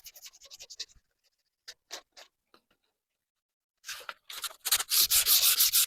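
Short scratchy strokes of sandpaper hand-sanding a wooden chair, a few quick passes, a pause, then louder continuous rubbing close by.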